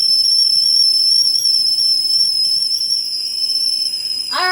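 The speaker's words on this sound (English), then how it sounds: "now you can hear it whistling, which is really nice, so you can know it's ready to go" A tea kettle whistles with a loud, sustained, piercing tone that holds steady for several seconds, wavering slightly near the end, with no talking over it.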